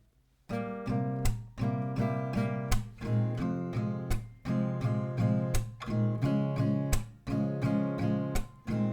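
Acoustic guitar strummed in a steady rhythm, each chord struck crisply and ringing into the next, close and fairly loud with no voice.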